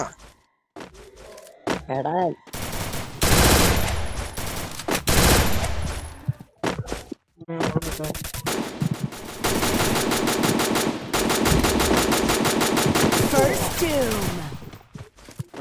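Rapid machine-gun bursts and single gunshots crackle through a battle royale video game match, loud and nearly continuous with brief gaps, under a player's occasional voice.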